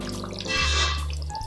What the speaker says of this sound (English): I'll add the hot water now.